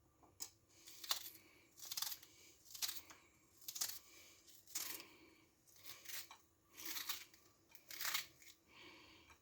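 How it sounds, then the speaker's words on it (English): Onion and spring onion being cut into a bowl of eggs and spices for an egg fry: a series of about ten crisp, quiet snips or chops at a fairly even rhythm, close by and without any talk. "into that we're going to cut the onion and the spring onion"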